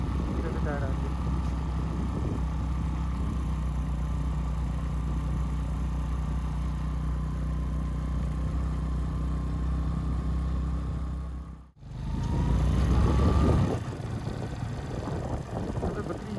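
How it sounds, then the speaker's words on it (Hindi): A motorbike engine labors steadily uphill in first gear on a mountain road in Kashmir, a loud continuous drone with wind buffeting the microphone and a brief dropout near the end before the engine noise returns. "आप बाइक की आवाज़ सुने, उससे भी अंदाज़ा होगा कि बाइक की कितनी ताकत लग रही है"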